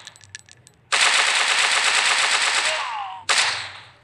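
Machine gun fire in a first-person shooting game: a few quick clicks, then a loud sustained burst of rapid automatic shots lasting a couple of seconds, a brief pause and another burst that fades out.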